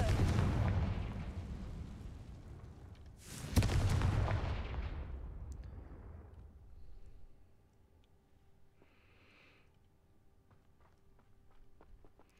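A Confringo explosion spell in Hogwarts Legacy goes off as a loud booming blast, then a second burst swells and fades into a long rumbling tail before quieter game ambience.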